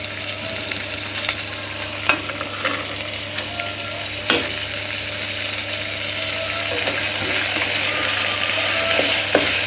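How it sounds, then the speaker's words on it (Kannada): Carrots, beans and peas fry in hot oil with a steady, fairly loud sizzle, a few clinks of a spoon against the pan punctuating it, and no one speaking. "ಇದೆಲ್ಲ ಸ್ವಲ್ಪ ಬೇಯಬೇಕು ಎಣ್ಣೆಯಲ್ಲಿ"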